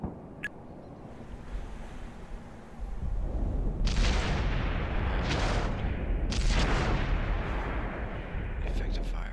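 Tank cannon shots and impacts in a tank battle video game, a low rumbling barrage that rises in strength partway through, with two sharp bursts standing out amid continuous heavy booming.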